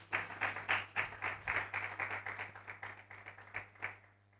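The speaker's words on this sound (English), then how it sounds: "A round of applause as she comes to stage." Audience applause at a youth panel event in West Pokot, Kenya, as a panelist comes to the stage; a moderate crowd clapping in a dense patter, somewhat distant, with a steady electrical hum underneath.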